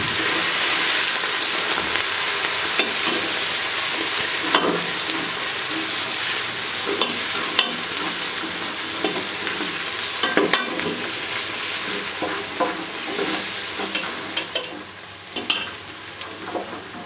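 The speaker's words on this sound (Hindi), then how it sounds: "हरी मिर्च को अच्छे तरीके से फ्राई करेंगे।" Green chillies fry in a pan for masoor dal pakora curry, giving a loud, continuous close sizzle with frequent scraping stirs and small clinks throughout, with no speech.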